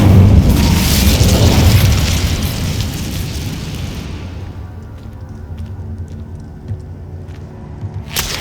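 A booming, fiery burst from the Incendio fire spell cast in Hogwarts Legacy, with a loud rumbling blast that fades over several seconds into quiet game ambience and a few soft clicks.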